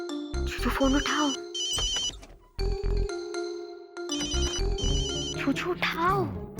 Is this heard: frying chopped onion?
no